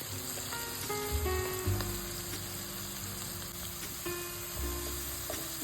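Finely chopped spinach fries in oil with a soft, continuous sizzle at moderate level, and a few light stirring clinks. Steady tonal hums sit in the background.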